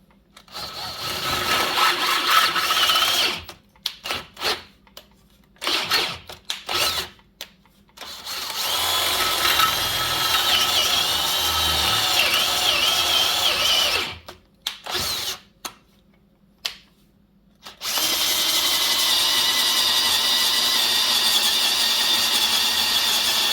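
A power drill bores into a hinge pin for a full-size Jeep Wagoneer, running in loud sustained bursts broken by several short stops and restarts, with one long steady run to finish.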